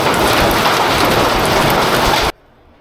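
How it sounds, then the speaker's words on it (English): A heavy storm with pouring rain and hail, a dense, loud, continuous roar of drumming on surfaces that cuts off abruptly into near silence. "Well, the storm came back with a vengeance."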